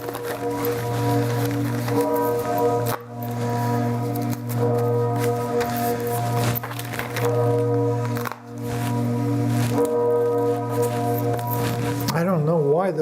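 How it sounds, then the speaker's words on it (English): Church bells ring on and on, their layered tones merging into a continuous resonant drone with brief dips, heard at moderate distance. "And there goes those bells again at the friggin' church, man."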